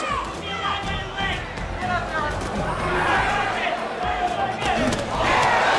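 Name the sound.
boxing crowd cheering at Jake Paul vs Mike Tyson fight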